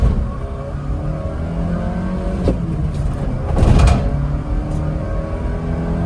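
A new kei truck pulls away from a standstill in first gear, its small engine droning steadily with a rising hum and a brief surge of revs midway, heard from inside the cab.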